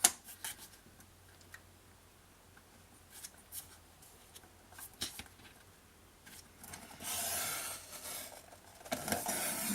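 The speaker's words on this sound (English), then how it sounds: "I'm going to finish it with my scissors" Scissors snip card stock in a series of short, crisp cuts, followed by a louder rustling stretch near the end.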